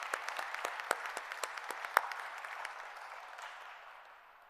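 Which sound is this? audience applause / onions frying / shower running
audience applause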